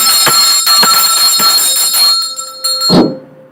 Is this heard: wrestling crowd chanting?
no